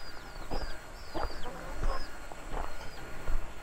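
Chickens clucking and chirping nearby over a steady outdoor village background, with several birds calling at once.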